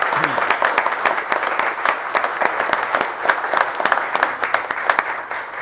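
Applause from a small audience at a county board of commissioners meeting, with distinct individual claps in an uneven rhythm and some voices underneath.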